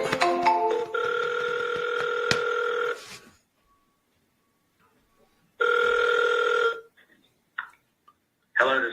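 A telephone ringing on an outgoing call: two long electronic ring tones heard close through the line, split by a few seconds of silence, with a short clipped beep near the end.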